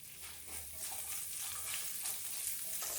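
Halved shallots and garlic sauté in a pan for Kerala-style varutharacha chicken curry, a continuous soft sizzle with occasional stirring scrapes, close and moderately quiet.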